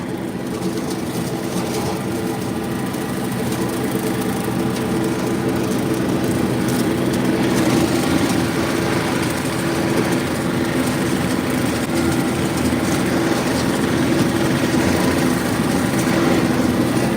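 A John Deere 3032e compact tractor pulling a Countyline 5-foot bush hog cutting brush, with a steady, unbroken engine and mower drone held at an even level throughout.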